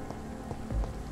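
Steady rain falls over an outdoor scene in the video game Vampyr, a soft continuous hiss with a few low thumps underneath.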